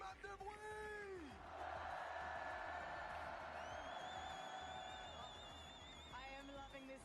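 A large arena crowd at the Fortnite World Cup final roars and cheers in a sustained wash of noise, with an announcer's loud voice over it at the start and end.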